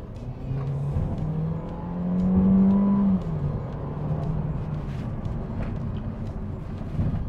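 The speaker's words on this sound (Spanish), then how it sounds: "Aquí lo acelero, el lag del turbo es mínimo" A turbocharged Citroën C4 Cactus accelerates with a steady engine drone that rises in pitch and swells louder around the middle, then settles back to a sustained hum from inside the car.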